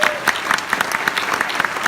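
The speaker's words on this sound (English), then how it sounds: "Please give everybody a big round of applause." Applause from a theater audience at a charity awards event, a lively mix of many hands with individual claps popping out in a quick uneven rhythm, close and fairly loud.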